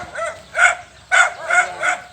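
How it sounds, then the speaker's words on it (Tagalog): Dogs bark in several sharp bursts beside a vegetable garden where squash is being harvested, four or five loud yaps spaced unevenly over a couple of seconds with some quieter yelps between. "Naku, mga aso ba yun ng ano?"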